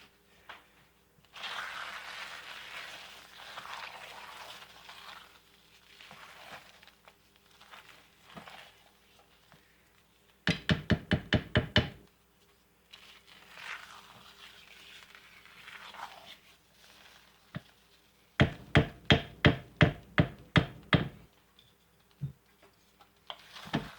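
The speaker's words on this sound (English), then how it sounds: "but I kind of enjoy stirring." Hot process lye soap being stirred in a pot during the cook: soft scraping swishes, with two rapid runs of sharp, regular knocks like a utensil tapping the pot.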